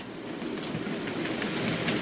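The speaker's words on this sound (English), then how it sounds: "let's see if we can run this train again." A Hornby R2249 8F OO gauge model locomotive runs along its track with a steady close-up rumble and faint rhythmic wheel clicking, loud and continuous with no talking.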